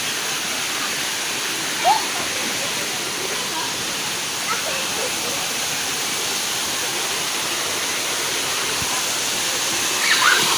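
Hot waterfall at Emerald Pool in Krabi, Thailand, pouring as a steady, loud broadband rush of falling water that fills the whole clip, with brief faint sounds from people nearby.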